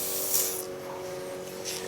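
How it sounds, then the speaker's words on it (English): A short, close burst of WD-40 aerosol hisses steadily onto a rag during a Nissan power antenna repair, a continuous spray lasting under two seconds. "I take some of this, spray it on my rag right here"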